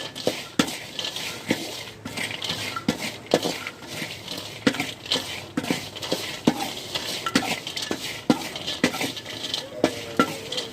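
Food dry-roasting in a pan over a gas flame turned to its lowest setting, with a steady run of sharp scraping and clinking stirs against the metal pan under a faint background hiss.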